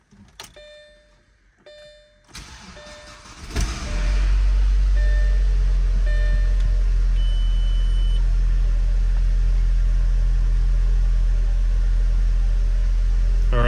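An Audi A4 B6 Avant with a 1.8-litre turbo engine cranks after a few faint clicks and chimes, catches and settles into a steady, loud idle that carries on close by with no one speaking.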